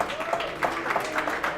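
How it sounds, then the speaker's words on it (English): An audience at an awards ceremony breaks into scattered clapping, moderately loud and steady, with voices talking over it. "Give her a round of applause,"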